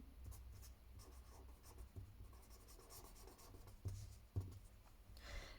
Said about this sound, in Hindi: तो प्रीमीटर का फार्मूला मैं यहाँ पे लिख लेती हूँ